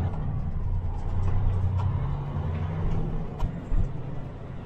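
Farm trucks being driven home to the sheds after corn cracking, a steady low engine rumble running throughout with a couple of brief louder bumps near the end, no talk.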